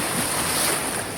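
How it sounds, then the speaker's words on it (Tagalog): Strong ocean surf roars continuously against a damaged riprap seawall, a dense wash of crashing water with wind buffeting the microphone. "Sobrang lakas ng alon,"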